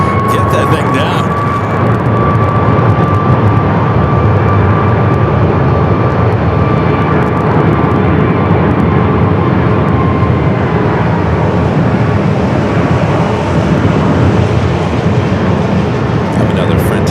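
A Frontier A320neo airliner moving on the south side at Phoenix Sky Harbor airport, a steady loud jet engine roar that swells and thins slightly throughout, with voices talking over it.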